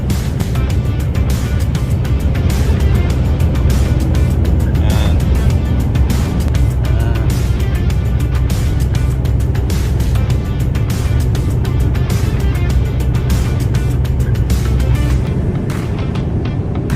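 A yellow truck travels along a road, producing a loud, continuous rumble of engine and road noise with steady low-end drone and a faint clattering texture throughout.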